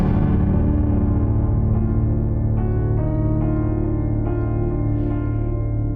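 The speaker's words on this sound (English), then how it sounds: "I got this detuned piano, which does this" A detuned piano plays a slow motif in a cinematic score for a Marvel motion comic. Its notes are struck one after another over a sustained, warbling low drone, loud and close, with no voices.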